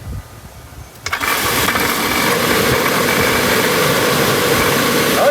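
A 1963 Pontiac Grand Prix engine, powered from a DeWalt battery, cranks and catches after about a second, then settles into a loud, steady idle.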